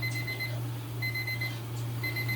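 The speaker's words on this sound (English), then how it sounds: "That's what the timer was." A kitchen timer goes off while rice cooks, giving a fairly faint electronic beep in repeated short bursts over a steady low hum, with no talking.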